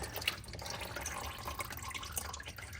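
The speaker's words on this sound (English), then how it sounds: "undo this a little bit more to let it continue dripping" Engine oil drips from a car's drain during an oil change, a steady patter of close, irregular drops with faint background hiss and no talking.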